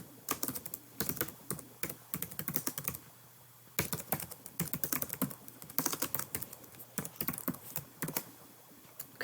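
Someone types a comment on a computer keyboard: fast, close bursts of key clicks with a short pause partway through, and no talking.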